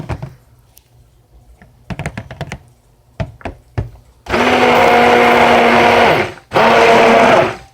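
A stick blender mixing lavender coconut oil soap whirs loudly in two sustained bursts, separated by a brief pause and preceded by scattered taps and knocks.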